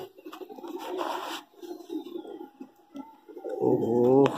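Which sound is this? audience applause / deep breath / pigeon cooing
pigeon cooing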